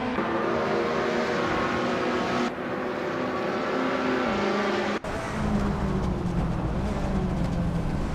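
A pack of race cars, including a 2019 Ginetta G55 Super Cup, roars off the line at Fuji Vintage Club in a racing video game, engines droning loudly and shifting pitch as they accelerate together.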